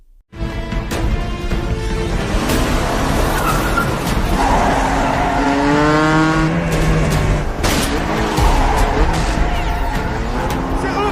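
Film chase between a motorbike and a car, with loud continuous engine roar, repeated tire skids and squeals, and sharp impacts throughout, dense and close with no talk.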